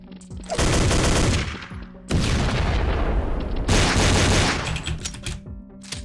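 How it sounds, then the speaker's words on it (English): Heavy, booming blasts from a grenade in a Godot-built video game, three long roaring bursts of explosion noise in a row, each swelling loudly and fading into a rumbling tail with no talk over them. "Let's plop a grenade over there."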